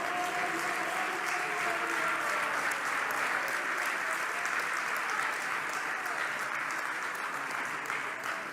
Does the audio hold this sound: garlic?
no